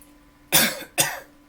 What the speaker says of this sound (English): what I want you to do now is end with 2 coughs.